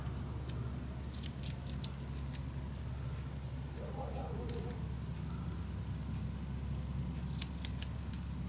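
Scissors snip through a paper strip during a vintage winter mini album craft project, a handful of short crisp cuts spaced irregularly over a low steady room hum, close and fairly quiet.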